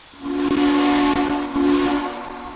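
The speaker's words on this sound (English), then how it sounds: "when you sound the whistle, the steam actually comes out of the whistle" A Southern 630 steam locomotive whistle sounds in the Trainz video game, a loud, sustained steady tone with hissing steam, briefly breaking twice before trailing off.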